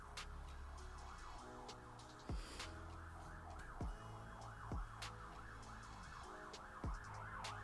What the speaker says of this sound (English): If you guys hear like ambulances and stuff